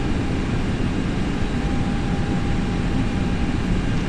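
Steady, dense engine and airflow roar of a simulated airplane in a flight simulator game as it is put into a clean stall, loud and unbroken with no voices.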